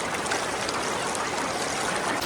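River water at Sada Pathor in Sylhet rushes over stones in a steady, dense, close wash of flowing water with no breaks.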